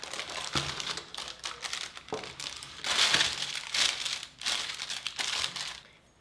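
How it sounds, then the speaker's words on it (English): Parchment paper crinkles and rustles in bursts as a homemade gluten-free granola bar slab is lifted out of a bread pan, crisp close crackles with short pauses between. "you can just lift up on the parchment paper"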